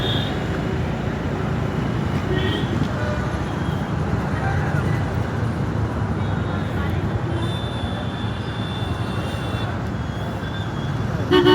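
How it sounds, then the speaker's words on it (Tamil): Road traffic idles and creeps at a toll gate, a continuous low rumble of cars and heavier vehicles with faint horn tones, while people talk over it. "டிராஃபிக்கில் நின்றுட்டுருக்கோம்."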